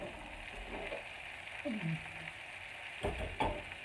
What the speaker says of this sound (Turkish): Hepsini birlikte kavuracağım.